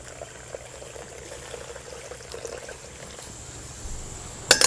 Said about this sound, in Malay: Lepas angkat, bilas dengan air putih.